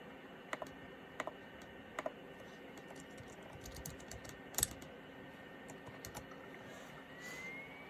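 Keys on a DEC Digital HiNote VP TS30H laptop clack in sparse, irregular single presses and short bursts over a quiet background hum, close to the listener.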